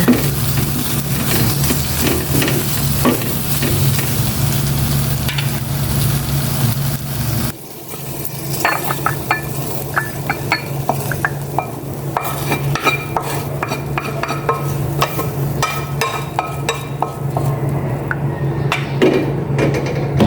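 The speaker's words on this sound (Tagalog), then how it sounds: "Iniinit ko na itong adobong chicken." Leftover chicken adobo reheating in a pan is stirred steadily, a continuous close sizzle broken by scraping and clinking of the utensil, with a brief dip midway before the sizzling and stirring resume.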